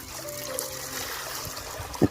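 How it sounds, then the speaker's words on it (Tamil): Water pours in a steady, continuous trickle into a pot of cut potatoes close by, with a soft splashing texture and no voices. "போதுமான அளவுக்கு தண்ணி ஊற்றிக்கோங்க"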